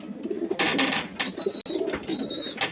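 A racing pigeon from a loft coos softly and repeatedly up close, with faint chirping and background rustle around the low, throaty calls.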